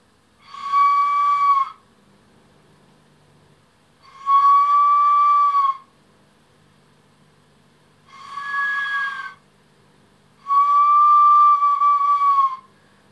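Four breathy, hollow kōauau flute tones, each held a second or two, separated by silent pauses; clear and fairly close.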